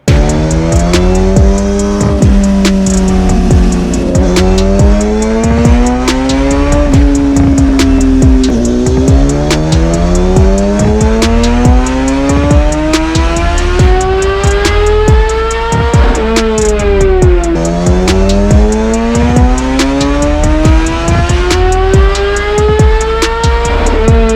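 A Kawasaki ZX10R motorcycle engine on a dyno during a baseline run, revving loudly and continuously, its pitch climbing repeatedly through the gears with brief drops at each shift.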